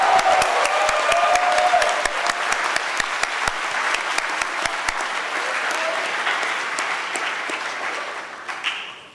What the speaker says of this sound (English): Michael, please rise to receive our applause